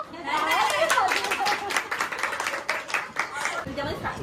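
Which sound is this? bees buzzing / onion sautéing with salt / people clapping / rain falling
people clapping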